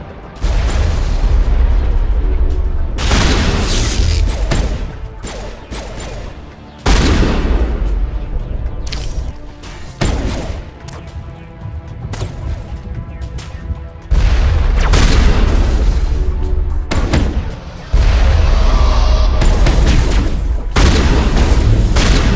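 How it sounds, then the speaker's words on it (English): Enemy artillery fire and explosions in the Mass Effect 1 video game, with heavy booming blasts and rapid gunfire bursts pounding almost continuously, loud and close, in repeated waves without speech. "We must find a way to disable their artillery."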